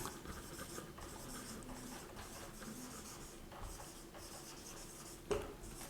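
A pen scratches across paper in short strokes, quiet and close, pausing between words, with a sharper tap near the end.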